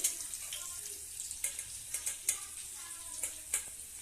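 Onion frying in a pan for Maharashtrian pithala, a soft steady sizzle with scattered scraping clicks as it is stirred, close up and fairly quiet.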